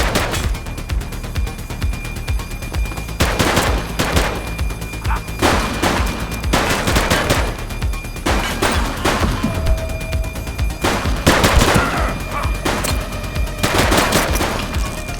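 Police open fire during a shootout in The Precinct, with repeated bursts of loud, close gunfire and machine-gun rattles that come in clusters separated by brief pauses, with no voices over them.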